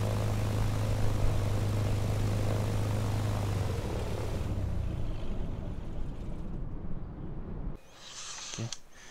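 A steady, loud propeller-engine drone from an airplane in a flight simulator game, flying toward a landing at St-Barth, holds for several seconds, then abruptly cuts off near the end, leaving faint clicks.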